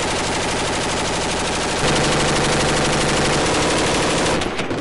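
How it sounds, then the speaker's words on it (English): Troops in Afghanistan fire machine guns during an attack in dense, continuous bursts. The gunfire is loud and close, rattling rapidly and without pause, then stops abruptly at the end. "Now they're trying to put out as much fire as they can to try and cut the attackers."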